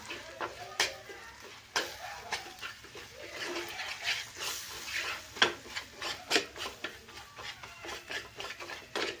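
A spoon stirs gram flour (besan) through oil in a pan for a kachori filling, giving repeated soft scraping and rubbing strokes at close range with uneven rhythm and no voices.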